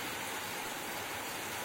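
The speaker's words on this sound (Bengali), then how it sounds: "তারপর নামলো ঝমঝমিয়ে বৃষ্টি।" Heavy rain pours down in a dense, steady hiss with no pauses, fairly faint overall and heard alone without voices for a brief moment.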